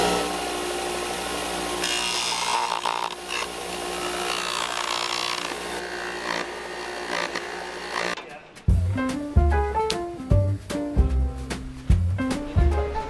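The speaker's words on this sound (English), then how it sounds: "It's kind of a satisfying thing to watch the belt sander takes all the excess off." A belt sander grinds excess material off a part for an aircraft tail kit, a loud sustained abrasive roar for about eight seconds before it cuts off and music takes over.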